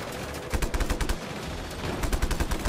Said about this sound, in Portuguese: Da onde que tá vindo os tiros, velho?